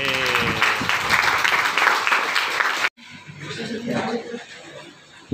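Students in a school classroom clap loudly and densely for a global warming presentation, then the clapping drops to a quieter, scattered patter with chuckles and voices around it.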